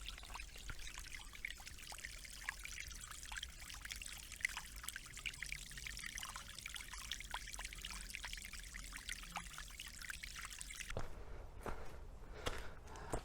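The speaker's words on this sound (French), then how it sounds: "J'entends de l'eau, il doit y avoir une petite source" Small forest stream trickling steadily across a hiking path in the Vercors, a continuous light flow of water with soft footsteps crunching along, the water quieting toward the end.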